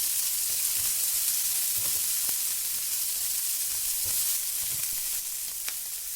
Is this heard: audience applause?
no